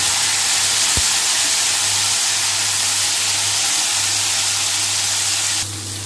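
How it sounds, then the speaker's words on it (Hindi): Barbatti (long beans) fry in a hot pan with a loud, steady sizzling hiss that runs throughout, a low hum beneath it and one faint click near the start. "तो अभी हम पहले डालेंगे बरबट्टी, इसे हल्का सा हम फ्राई कर लेते हैं।"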